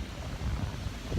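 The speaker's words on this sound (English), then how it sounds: "nice wind" Wind blows through a park in a brief, low, rushing gust that buffets the microphone, with no voices.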